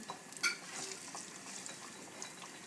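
Food frying in a pan filled about halfway with oil, giving a soft, steady sizzle and hiss with a brief clink of a utensil near the start.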